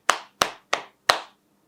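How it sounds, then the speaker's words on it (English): Four sharp hand claps close to the microphone, evenly spaced about a third of a second apart, each with a short decaying ring and quiet between them. "Now I can do the clapping"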